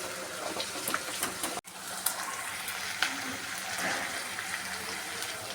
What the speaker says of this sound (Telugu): ఉల్లిపాయలతో పాటు కొద్దిగా వేయించుకుందాం